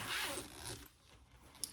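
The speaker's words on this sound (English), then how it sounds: "I'm going to separate my zipper" A fabric zipper is pulled apart while sewing an on-the-go pouch, giving a brief, close, rasping zip that is loudest at the start and fades, followed by a small click near the end.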